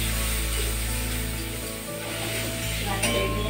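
Chicken pieces and fried potatoes with turmeric stirred in a hot pan, a loud continuous sizzle with a grinding, ratcheting scrape of the utensil against the pan, close up with no talk.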